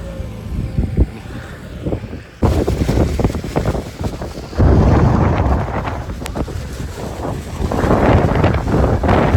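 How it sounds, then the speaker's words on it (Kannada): Strong wind buffets the microphone in loud, continuous gusts on the way to Mugilupete in Kodagu, roaring and rumbling with a few sharp thumps, no voices present. "ಗಾಳಿ ಮಾತ್ರ ನೆಕ್ಸ್ಟ್ ಲೆವೆಲ್ ಆಗಿದೆ"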